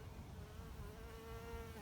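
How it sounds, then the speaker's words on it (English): A large bee or wasp buzzing close by outdoors, a steady droning hum that holds for a couple of seconds and shifts slightly in pitch as it moves, fairly faint and with no talk over it. "that's a big bee. Sorry about that. Or wasp, I don't even know what it was."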